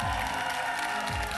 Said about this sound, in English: the crowd needs to shut up though, because I'm trying to hear her